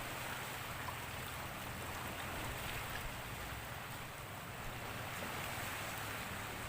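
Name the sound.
seaside spring water flowing like a stream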